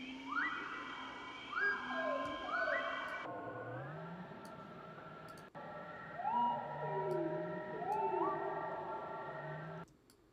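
Capuchin monkey calls slowed and pitched far down become long, eerie, whale-like swooping tones and drawn-out moans, smooth glides that repeat in two similar phrases with a brief break, alone and fairly quiet.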